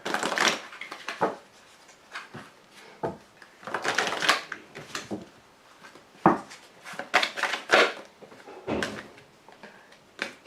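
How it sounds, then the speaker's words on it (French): Tarot cards are shuffled and drawn, producing repeated quick riffles, flicks and soft taps close by, arriving in uneven clusters across the stretch. "Je vais également vous tirer les cartes OH qui seront des cartes conseils pour chacun des décans."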